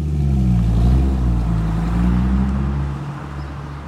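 A car with a Pedal Commander throttle controller cruising on a test drive, a steady low engine drone heard from inside, easing off slightly toward the end.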